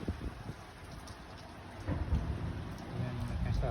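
A thunderstorm with heavy rain, lightning and strong wind in Phoenix, heard as a dense, continuous roar of rain and wind with low rumbling surges that swell louder toward the end.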